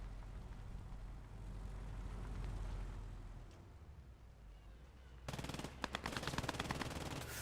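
An MG42 machine gun in the World War II shooter Post Scriptum breaks into loud, rapid bursts of fire in the last couple of seconds, after a stretch of low rumbling battlefield ambience.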